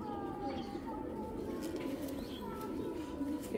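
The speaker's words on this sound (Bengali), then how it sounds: "এটা খুব ব্লাডের কবুতর একবারে।" Racing pigeons coo in low, repeated, throaty calls nearby, with a faint voice in the background.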